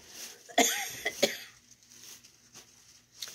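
Two sharp coughs close together, followed by quiet room noise and a few faint clicks.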